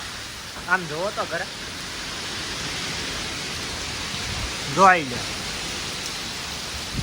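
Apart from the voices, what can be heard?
heavy rain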